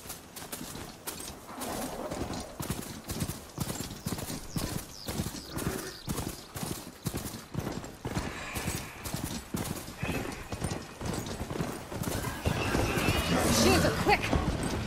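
A machine mount ridden in Horizon Forbidden West, its steady rapid clip-clop footfalls drumming close and evenly throughout, with occasional whinny-like calls and a voice speaking over them.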